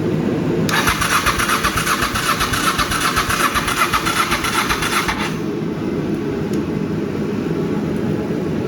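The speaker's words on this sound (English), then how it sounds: "And I got it to crank over by itself." Honda Shadow motorcycle engine cranking over on the starter with no fuel tank connected, a loud close rhythmic whirring churn lasting about five seconds and then cutting off to a steady low hum.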